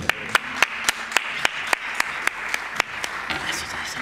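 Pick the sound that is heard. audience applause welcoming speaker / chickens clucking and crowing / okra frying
audience applause welcoming speaker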